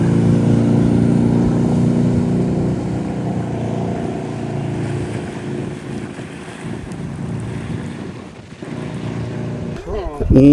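Steady low engine drone with wind rumble and water wash as a boat moves by, fairly close, with a brief clatter near the end.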